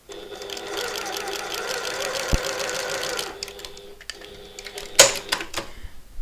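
Sewing machine stitching along dart lines on a garment, a close rapid mechanical hum for about three seconds, then stopping, followed by quiet handling and a brief click.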